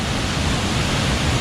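A waterfall swollen and flooded after heavy rain roars as a loud, steady, unbroken rush of falling water, with no voices.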